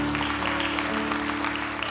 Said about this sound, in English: Somebody give the Lord a hand clap.